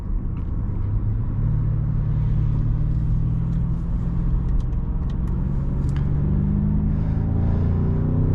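A 2023 BMW M5 Competition drives uphill, its engine a deep, steady rumble that holds the same pitch from inside the cabin, with no talking over it.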